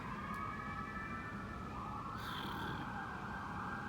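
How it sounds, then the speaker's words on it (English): Police sirens wail steadily over constant traffic noise, the pitch rising and falling, with a brief higher yelp partway through. "you hear the sirens?"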